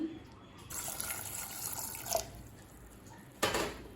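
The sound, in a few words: water being poured in for cooking chickpeas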